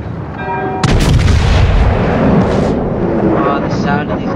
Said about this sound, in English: the sound of these guns is extraordinary